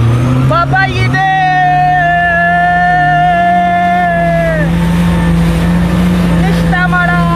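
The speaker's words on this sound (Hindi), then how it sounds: "बाइक स्टार्ट कर दी है और ये सिर्फ समझ ले के होंडा 125 चला रहा हूँ मैं" A jet ski engine runs in Sharjah, Dubai, with a loud, close, steady droning hum whose pitch dips and recovers slightly as the throttle shifts.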